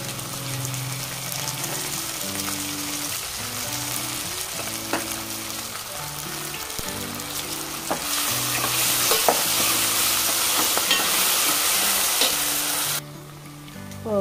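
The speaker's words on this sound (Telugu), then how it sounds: "ఇప్పుడు దీంట్లోకి కరివేపాకు వేసుకుందామండి, అలాగే కొంచెం కొత్తిమీర కూడా వేసుకుందాం" Curry leaves and coriander sizzle in hot oil while being stirred, a steady crackling fry with scraping stir strokes throughout, growing louder partway through, then a sudden drop near the end.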